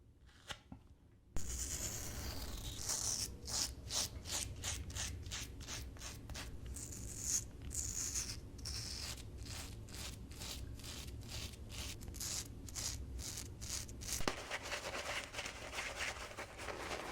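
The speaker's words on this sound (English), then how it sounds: "I've shaved down, now I'm going to shave up." A razor is drawn upward, against the grain, during a wet shave. It makes a close, quiet series of rhythmic scratchy strokes, roughly a dozen in quick succession, over a soft background hiss.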